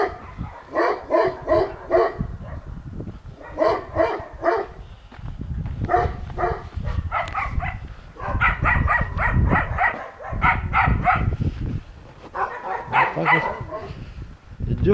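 Several dogs bark in repeated bursts from yards along a winter street in a Krasnodar garden-plot settlement, fairly close and loud, with pauses between volleys and low rumbling noise underneath.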